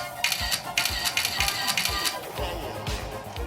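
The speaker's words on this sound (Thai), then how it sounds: "ฟังเสียงชัตเตอร์นะครับ" Rapid burst of iPhone 4S camera shutter clicks, a fast steady train of crisp, close mechanical snaps repeating for a few seconds with faint background noise.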